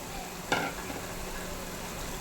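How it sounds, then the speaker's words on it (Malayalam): Chili, pepper, fennel and coriander powders frying in hot oil for a Kerala-style fish head curry, a soft steady sizzle with one brief stirring scrape, no talking. "ഈ എണ്ണ കിടന്ന് പൊടിയൊക്കെ നല്ലപോലെ ഒന്ന് മൂത്ത് വരണം"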